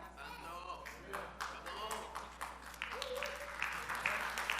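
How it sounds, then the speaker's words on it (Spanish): Adults in a church congregation clap during a sermon, a scattered, fairly faint round of applause with uneven individual claps and a low steady hum underneath. "Son los adultos los que aplauden"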